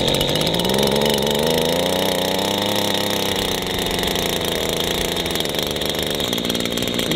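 A small ECHO WP-1000 high-flow water pump engine runs continuously close by, a buzzy two-stroke-style drone whose pitch wavers slightly as it settles, with no talking.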